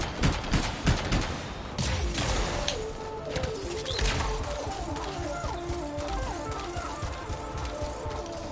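Outlaws fire guns in the Anthem video game, with a dense, continuous stretch of shots and battle noise filling the whole span. A brief clatter opens the stretch and layered game sounds run beneath it.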